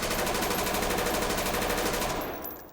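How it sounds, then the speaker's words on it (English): An automatic rifle in the tactical shooter Ready or Not fires one rapid, continuous burst, loud and close, then cuts off sharply at the end. No speech. "this is a very aggressive vertical recoil"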